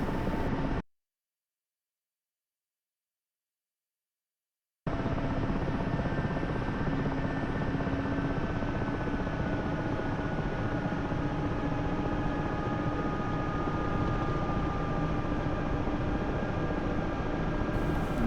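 Mi-8 Hip helicopter in flight inside a video game, a continuous loud rotor and turbine drone with steady whine, briefly cut to silence early on before resuming unchanged.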